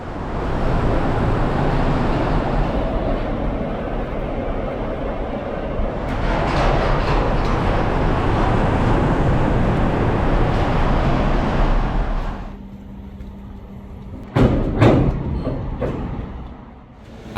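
A train runs along a single-track suspended monorail, hanging upside down from its rail, passing with a steady rolling rumble for about twelve seconds before fading, followed by a few sharp clanks.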